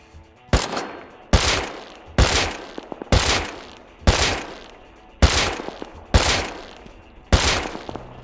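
About eight loud, sharp gunshots in the video game Rust ring out at roughly one-second intervals, each with a booming echo that trails off.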